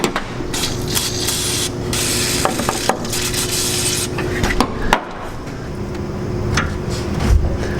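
Wrenches work on the transmission cooler line fittings of a long-abandoned Edsel's radiator, giving close scraping, rubbing and metallic clicks with irregular knocks and rasping movements.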